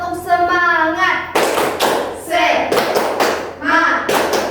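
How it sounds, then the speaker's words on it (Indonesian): Children in an Indonesian primary classroom perform a rhythmic clapping chant, sharp hand claps in bursts alternating with the teacher's and pupils' voices calling out the chant. "Kita sekarang tepuk semangat ya anak-anak Ibu, biar semangat belajarnya."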